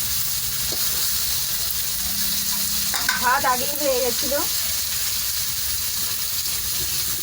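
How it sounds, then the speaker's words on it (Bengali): Katla fish fries in a pan with a loud, steady sizzle that runs the whole time, close and unbroken, while a voice speaks briefly in the middle. "কাতলা মাছের ভাজা হচ্ছে এখন"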